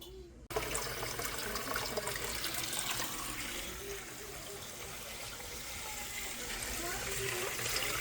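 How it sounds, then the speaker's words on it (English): A pond pump moves cantaloupe wash from one barrel to a smaller one, giving a steady, close gushing and splashing of liquid that begins abruptly and runs continuously with no talk. "I'm going to transfer 20 gallons from this barrel into that smaller barrel. I'm going to let it sit overnight. I'm going to use this pond pump."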